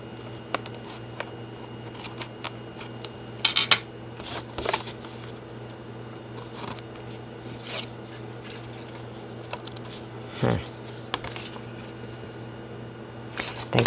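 Scissors snip pages off a paper notepad in short, scattered bursts of crisp cutting and rustling, fairly quiet, over a steady background hum, with no talking.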